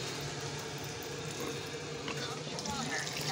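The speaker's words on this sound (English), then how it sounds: "this is the Enagic Level Up K8 machine. Okay, Level Up K8 machine. Let me turn it on." Water pours steadily from an Enagic Level Up K8 Kangen water machine into a cup, a soft continuous flow at moderate distance.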